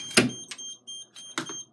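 A fire alarm system goes off on activation, giving a few short, sharp electronic bursts with pauses between them over a faint steady tone.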